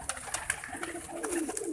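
Pigeons kept by a fancier coo softly, a few low murmuring calls close by with faint bird chatter around them.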